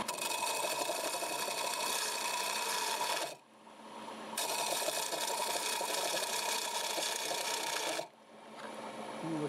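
Lathe turning Wenge wood in a segmented piece with a small carbide tool, a close, bright scraping hiss in two long passes separated by short quieter gaps as the cut lifts off.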